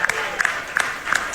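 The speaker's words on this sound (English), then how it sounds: "Can I get a witness and a raucous round of applause for Mr. Alec Lewis, ladies and gentlemen?" A crowd claps and cheers in a raucous round of applause at a live morning radio show event, dense continuous clapping with sharp peaks and voices mixed in.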